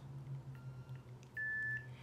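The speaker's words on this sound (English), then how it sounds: "I'm gonna turn it on so you know it's on by the noise that it just made" Short electronic beep from a Nira skincare laser device set to level 4, a steady tone of about half a second near the end, fairly clear over a quiet room hum.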